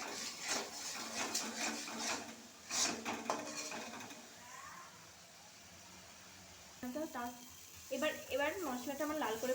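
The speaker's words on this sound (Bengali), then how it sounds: "এবার একটু হলুদের গুঁড়ো দিলাম, আর দেবো 1 চামচ নুন, দিয়ে এবার মশলাটা কষাবো।" Spice paste with turmeric and salt fries in a pan with a soft sizzle and occasional scrapes and clinks, under a voice talking close by.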